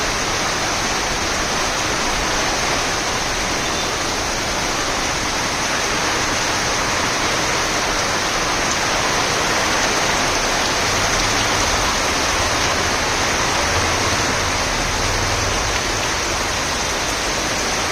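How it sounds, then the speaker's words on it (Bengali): Heavy monsoon rain pours over a garden in a steady, dense roar that holds at an even loud level throughout, with no gaps and no voices. "বর্ষাকালের সেই বৃষ্টি দেখুন আমাদের বাগানকে কীরকম তছনছ করে দিয়েছে।"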